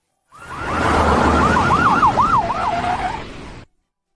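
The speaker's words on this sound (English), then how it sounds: "Why are there so many police cars all of a sudden?" Several police car sirens wail together, rising and falling in quick yelping sweeps over a rushing traffic roar, loud and close, starting abruptly and cutting off after a few seconds.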